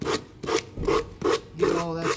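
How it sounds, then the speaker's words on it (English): Hand sanding a wooden tool box, five rhythmic back-and-forth rasping strokes, close and fairly soft with no talk. "sand it out, make sure you get all the edges of the box everywhere"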